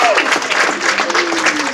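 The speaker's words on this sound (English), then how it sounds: "let's everybody get a cheer for the people that have done this" Applause breaks out at a church dinner at First Presbyterian Church of Glenolden, a dense crackle of many clapping hands filling the room, with voices and a bit of cheering mixed in underneath.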